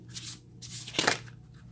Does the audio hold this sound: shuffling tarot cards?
yes